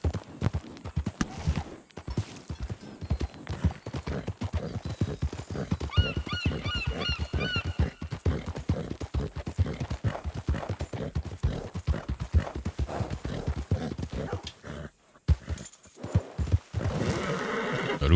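Clip-clopping hooves and repeated whinnying from a horse, with game-like music and effects around them, continuous and fairly loud.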